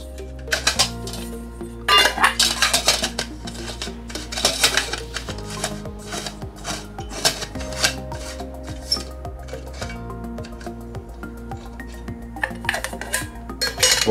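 Metal camping cookware, bowls and a frying pan, clinks and clatters as it is handled and stacked, sharp irregular knocks and rattles up close over a low steady hum.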